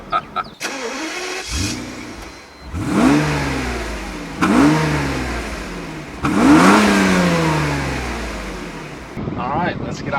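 A 1999 Mercedes SL 600 with a naturally aspirated V12 engine is started, then revved in three rising and falling bursts, loud and close, with a voice talking briefly near the end.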